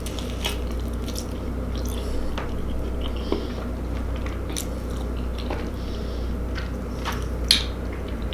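Barbecue ribs with sauce being bitten and chewed up close, soft wet squishes and occasional crunchy bites scattered over a quiet room hum, with no talk.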